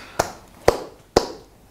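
Single hand claps at a library literary and film workshop, four sharp isolated claps about half a second apart, close and crisp with short room decay and no talk.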